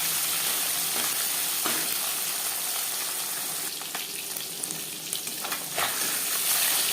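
Small puti fish frying in hot refined oil in a well-heated karahi, giving a loud, dense, continuous sizzle close up, with a few brief stirring sounds and no voices.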